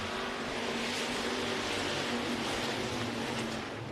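Hobby Stock race cars at a Thayer County dirt track roaring together at the start, a dense continuous engine din from several cars heard at a distance, no commentary over it.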